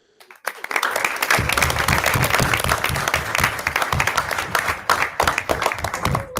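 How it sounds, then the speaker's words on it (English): An audience at a school board meeting breaks into sustained applause after students are honored for a first-place win, with dense clapping that swells quickly and holds steady before tapering. "Pause for applause."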